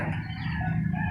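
A rooster crows with a drawn-out, harmonic call, fairly close and moderately loud over a low background hum, heard alone without speech.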